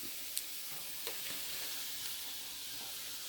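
Onion and garlic sauté in a pan for Filipino rice noodles, a steady, fairly soft frying sizzle with a few faint clicks from stirring.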